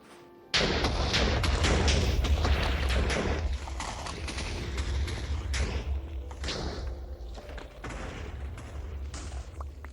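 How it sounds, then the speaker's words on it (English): Several TNT blocks detonate in Minecraft, a loud burst of overlapping booms followed by a steady series of sharp explosive cracks and thuds continuing for ten seconds, with no talking. "I'm then just going to spam a bunch of this TNT down."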